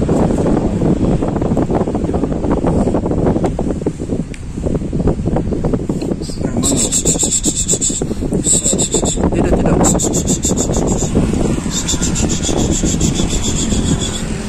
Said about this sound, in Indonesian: Anginnya lagi kencang.